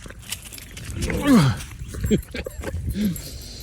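A dog gives a few high, wavering whines in short bursts, with jingling and light movement noise around it, close by.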